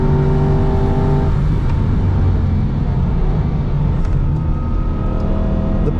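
Aston Martin V8 Vantage GT4 race car at speed on a damp track, its V8 engine a loud, continuous close drone from onboard that drops in pitch at a gear change and then climbs steadily again.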